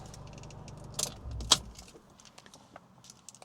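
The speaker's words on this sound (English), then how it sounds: "Here's the key." Keys to a 2014 Fiat 500 Abarth jangle in two short bursts, a soft rattle followed half a second later by a sharper, louder clink, over a faint background hum.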